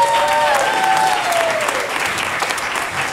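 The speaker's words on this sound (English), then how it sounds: "Let's give them another round of applause." Sustained applause from an audience at a middle school moving-on ceremony, steady dense clapping that fills the whole stretch at moderate loudness, with no voices over it.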